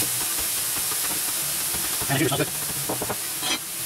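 Peppers, pea pods and onion for egg roll filling sizzle steadily in a saute pan, a close, continuous frying hiss that runs under a voice speaking briefly.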